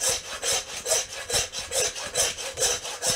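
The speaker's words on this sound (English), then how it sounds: "Right, spin it round, bit more saw action, picking up that line," A hand saw cuts through a beef forequarter in a butchery, its strokes a steady back-and-forth rasp repeating about three times a second, close and alone.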